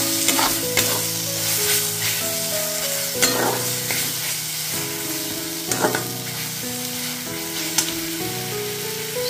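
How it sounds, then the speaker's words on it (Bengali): Kundru (ivy gourd) being sautéed in a pan with turmeric, cumin and coriander powders: a steady, loud sizzle and frying hiss, broken by repeated scraping stirs of a spatula against the pan. "এবারে সব কিছুকে ভালোভাবে কষিয়ে নিতে হবে।"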